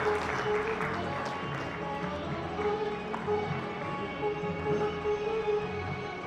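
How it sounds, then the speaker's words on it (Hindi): An audience at a stage event applauds in scattered, moderately soft clapping, with a voice and background hum underneath. "हम आपके स्वागत में भी करतल ध्वनि करते हैं, जोरदार ताली से आपका स्वागत करते हैं।"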